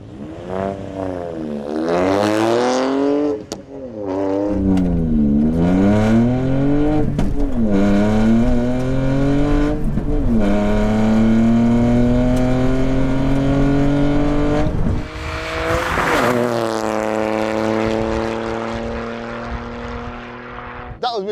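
A front-wheel-drive car launches at a drag race with its wheels spinning, the engine roaring loud and close as it climbs through repeated gear changes and then fades, with voices heard under it.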